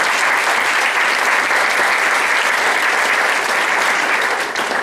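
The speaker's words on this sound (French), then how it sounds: "Je vous propose d'ailleurs de les applaudir." Loud, sustained applause from an audience in a conference hall, dense even clapping holding steady for about five seconds without talk.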